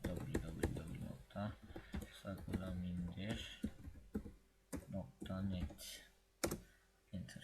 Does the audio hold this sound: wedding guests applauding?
no